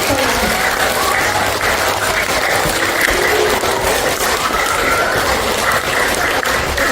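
Sustained applause from an audience cheering children at a library arts project closing event, a thick, even wash of clapping hands lasting several seconds without a break.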